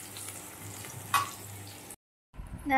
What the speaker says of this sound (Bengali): চলো বেগুনগুলো ভেজে নিই